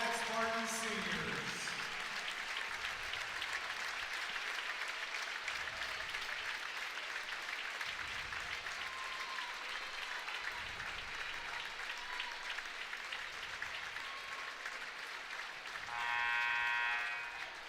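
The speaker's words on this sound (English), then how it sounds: "As Coach Parker is going to call a timeout to let the seniors get a standing ovation." A high school girls basketball crowd in the North Side vs Homestead gym gives seniors a standing ovation during a timeout, sustained steady applause filling the arena while an announcer talks over it, a brief whistle-like tone near the end.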